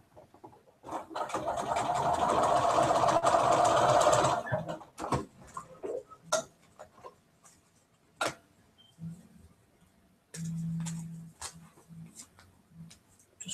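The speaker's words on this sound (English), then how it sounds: "and then sew on the solid line" A domestic sewing machine stitches pieced quilt block fabric along a marked line in a steady whirring run of about three seconds, followed by scattered clicks and handling noises and a brief second burst of stitching.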